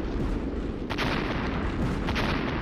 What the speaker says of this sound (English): Stop these stupid things from shooting at me.